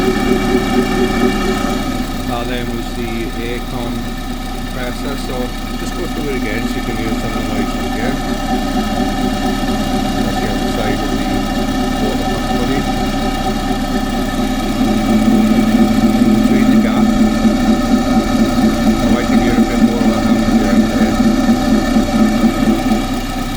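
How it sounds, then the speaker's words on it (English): A car engine with an unexplained noise idles close by after a body change, giving a steady humming drone with faint repetitive ticking. It grows slightly louder in its later part. "I'm going to show you some other noises on the engine"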